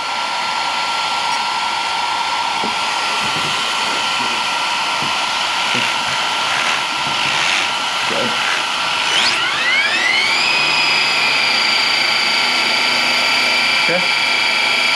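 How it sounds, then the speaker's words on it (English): Electric motor of a 40 mph machine pulling away in gear, a loud steady high whine that climbs sharply in pitch partway through as it accelerates, then holds at a higher tone, close and dominant. "I think it's probably only right that we do a little pull up so you can hear the motor."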